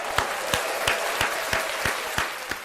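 Hands clap at a slow, even beat, about three claps a second, in a small round of applause. It is moderately loud, with a faint crowd murmur beneath.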